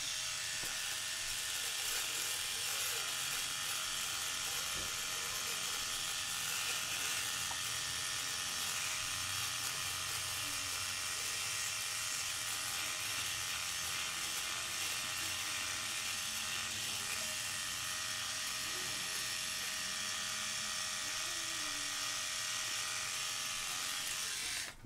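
A Philips Norelco Shaver 9400 (S9502/83) electric rotary shaver buzzes continuously at a steady high-pitched whine, close to the microphone, with faint scratchy textures from shaving throughout.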